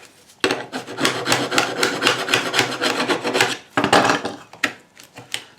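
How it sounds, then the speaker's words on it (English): A metal file rasps steadily back and forth across a vintage door lock, a continuous scraping rub with a brief pause before a few final strokes, close and fairly loud. "sometimes you just take a file and give it a quick scrape here, like a little rub"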